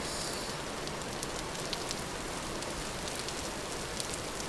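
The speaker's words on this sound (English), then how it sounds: "And it's raining. I need to cover all of this." Steady rainfall in the game Vintage Story, a constant broadband wash of drops with occasional sharper patters standing out, unbroken and moderately loud, with no talking.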